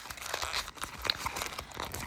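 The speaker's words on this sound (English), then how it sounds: "As you know, I like to crumple it up" A piece of 70 micron metal tape is crumpled by hand, giving quiet, irregular crinkling and crackling bursts close to the ear with no talking.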